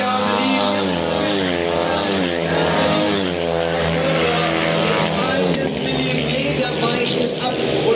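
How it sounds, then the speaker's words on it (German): A speedway longtrack racing motorcycle roars at full speed during a world championship final at Scheeßel, a loud sustained engine drone with rising and falling pitch, under continuous commentary. "das Motorrad läuft faszinierend schnell, wie an einem Lineal gezogen"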